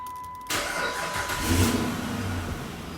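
A 5.7-litre Hemi V8 engine in a Chrysler 300C cranks and catches, then runs with a deep, throaty rumble and a brief rev before settling into a steady idle, close by.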